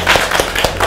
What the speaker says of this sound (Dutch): Oké, ik ga even een applaus geven.